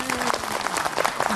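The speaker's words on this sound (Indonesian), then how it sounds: "Tepuk tangan dong." A brief burst of audience applause at an Islamic lecture, dense clapping from many hands with a voice faintly underneath.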